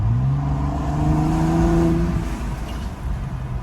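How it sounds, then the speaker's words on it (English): A 2024 Ford Bronco Raptor's exhaust rumbles low and steady from inside the cabin with the windows down, the engine note rising briefly as it accelerates under a constant road roar. "I got the windows down so y'all can hear this exhaust just a little bit."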